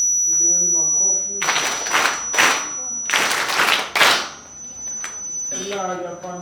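A group of young confirmation candidates applauding at a church gathering, three or four short bursts of clapping between spoken words, fairly near and moderately loud.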